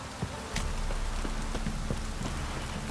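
Heavy rain downpour in the video game The Witcher 3, a dense, steady hiss of rain with scattered individual drop ticks and patters, constant and fairly close, with no talking.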